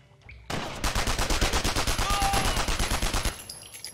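Rapid full-auto gunfire from the shooter game Mortyr 3, a loud, evenly spaced burst of rounds lasting nearly three seconds after a brief quiet start, then stopping abruptly.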